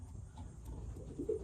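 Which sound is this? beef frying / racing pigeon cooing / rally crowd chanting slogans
racing pigeon cooing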